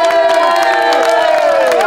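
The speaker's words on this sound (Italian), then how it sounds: "vieni un applauso Gianni" A crowd at an outdoor youth sports summer camp cheers and shouts, with many voices, some of them high-pitched, blending into a loud, sustained roar that fills the whole short stretch.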